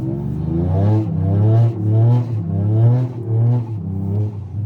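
A Toyota GR Yaris engine revs hard while driving on snow, rising and falling in repeated surges with a growling, rally-car tone, loud and close from inside the car.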